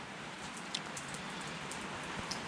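Steady rain falls with a soft, even hiss, occasional louder drops tapping close by, fairly quiet overall.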